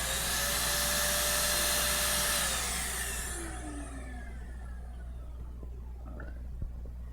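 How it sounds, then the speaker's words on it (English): A DipYourCar dip sprayer sprays Plasti Dip in a loud, steady turbine whir and hiss that holds for a few seconds, then winds down and fades out. "now I've got the DipYourCar dip sprayer. I'm going to do 1 second release on the trigger over here"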